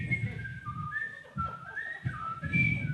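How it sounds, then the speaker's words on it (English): A person whistles a wandering melody with sustained, sliding notes, close and clear over a low background rumble, with short pauses between phrases. "just keep whistling"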